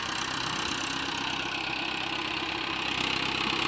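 A tractor engine runs steadily while levelling a farm field, a continuous mid-pitched drone with no breaks, heard at moderate distance and fairly even in loudness.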